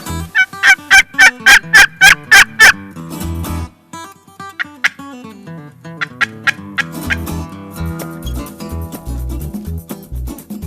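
A wild turkey tom gobbles in a fast, rattling burst of repeated calls, loud and close, before other mixed sounds carry on behind it.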